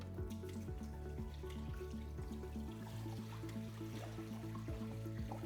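Water pours and gurgles steadily into the hopper of an Electro Freeze CS-700 soft-serve machine while it is flushed, over a constant low mechanical hum.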